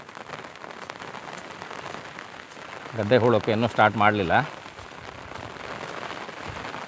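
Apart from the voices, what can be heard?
rain falling in the Malnad countryside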